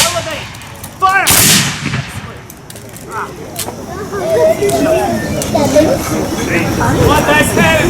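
Musket volleys and cannon fire at a Civil War reenactment weekend, loud sharp blasts with a booming cannon shot early, followed by shouted commands and crowd noise under scattered reports.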